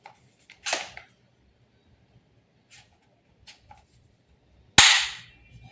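A VFC BCM MCMR MK2 airsoft gas blowback rifle fires a single sharp, loud shot with a short decaying tail near the end, after a few faint clicks and a softer handling snap in an otherwise quiet room.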